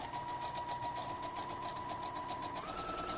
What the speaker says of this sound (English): Sewing down the lines just on the drawn lines, just like we did the other one.